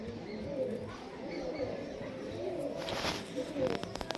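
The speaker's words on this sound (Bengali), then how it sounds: "অরিজিনাল মালবাহী পায়রা" Punjabi Malbai pigeon cooing softly and low nearby, a few brief murmured coos over faint background noise, with a short burst of rustling or flapping near the end.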